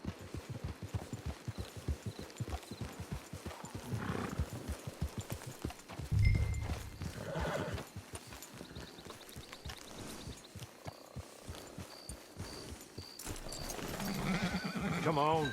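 Horse hooves clip-clop steadily in the Red Dead Online western game, with a neigh and a burst of louder movement partway through, mixed with ambient game sound and voices talking over the scene.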